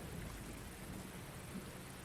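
Steady rain ambience with faint low rumbling, like a continuous downpour with distant thunder, playing as background in a Dungeons & Dragons tabletop session on FoundryVTT; even and unbroken throughout, no talking.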